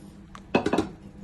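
Spoon or ladle scraping and clinking in a pot while pork blood is stirred into dinuguan, a Filipino pork stew; a quick cluster of four or five close metallic knocks, fairly loud over quiet background.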